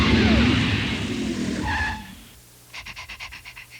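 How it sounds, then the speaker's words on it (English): A Nissan Hardbody truck with a powerful V6 engine, heard as a loud close revving surge with tire squeal fading away, followed by a rapid pulsing mechanical rattle. "Well, let's say you want a V6 engine. A powerful V6 engine."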